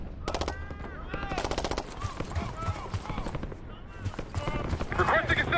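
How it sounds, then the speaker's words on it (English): Rapid automatic gunfire and scattered single shots in a Call of Duty: Black Ops 6 firefight, loud and close, with voices talking over the fighting. "Gunfire behind us."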